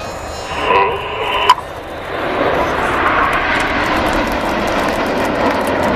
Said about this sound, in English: This is Lancaster.